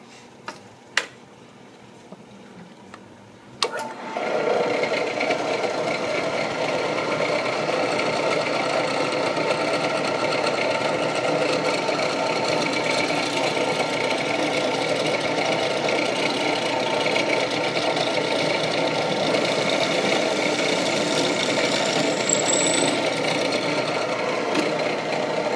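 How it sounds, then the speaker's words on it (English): A drill bores a hole through a bass guitar headstock template, starting abruptly after a few seconds of quiet and then running as a steady, loud whirring hum that continues without pause to the end. "I'm going to drill a hole that is just big enough to allow this through, and that's why I chose this drill bit."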